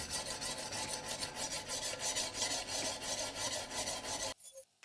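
A Miyabi 6000 chef's knife, clamped in a TSPROF K4 guided system, is stroked back and forth over an abrasive stone with light pressure: steady rhythmic rasping strokes, close and continuous, ending abruptly in near silence.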